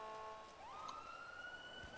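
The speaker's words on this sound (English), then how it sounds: "There's the sirens." Police sirens in the GTA 5 video game rise in a sweeping wail partway through and then hold a high steady tone. They sound quiet and distant over a low background.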